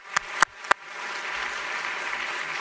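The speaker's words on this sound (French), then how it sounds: "l'on peut applaudir chaleureusement son président et ses équipes" Applause from an audience at a ministerial opening address, starting with three sharp separate claps and then swelling into a steady, moderately loud wash of clapping that holds to the end.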